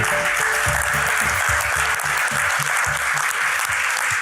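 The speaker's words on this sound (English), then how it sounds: "round of applause for Roland Frasier" A conference audience gives a loud round of applause for a speaker named Roland Frasier, dense clapping sustained for several seconds at close range with no talk over it.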